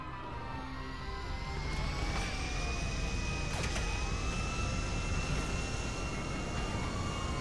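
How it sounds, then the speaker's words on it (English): An airplane engine starts in a video game heist, a steady loud roar with rising and sweeping whine tones that build over several seconds and hold, no voices over it. "Alright, cover me while I get the plane started."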